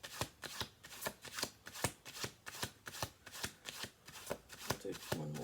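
Repeated crisp riffling bursts of a tarot deck being shuffled, about a dozen quick rhythmic flicks, close and fairly quiet with no talking.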